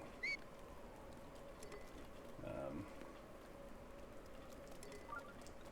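Soft, steady rain patters continuously in the background of The Legend of Zelda: Breath of the Wild, with a few faint chirps and brief clatters over the wash.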